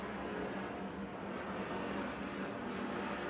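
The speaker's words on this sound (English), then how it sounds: "Sorry, there's a plane going by, hold on." An airplane passes close overhead outdoors, a steady broadband roar that holds evenly for several seconds, fairly faint and with no voices.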